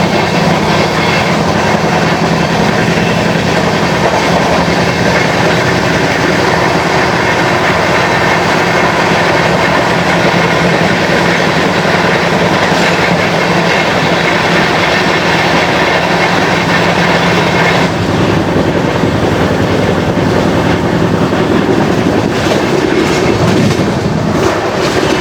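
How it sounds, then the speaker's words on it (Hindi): Heard from aboard the 20413 Kashi Mahakal Express as it overtakes the Kashi Vishwanath Express near Lucknow, a loud, continuous roar of rolling wheels and wind, with a shift in tone late on. "overtaking Kashi Vishwanath express"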